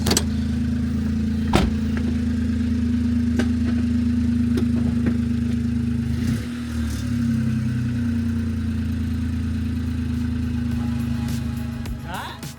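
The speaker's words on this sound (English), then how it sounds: "Now let's reverse out." A car engine runs steadily with a low hum while reversing out after clutch work and manifold fault codes, with brief clanks and a dip in engine tone partway through.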